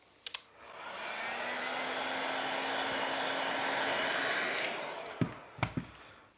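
A hair dryer blows on freshly applied paint, a steady near whoosh with a faint whine that rises, holds for a few seconds and cuts off, with a few clicks and handling knocks before and after.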